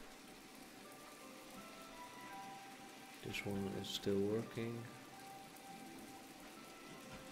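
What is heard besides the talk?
rain falling in the video game My Time at Portia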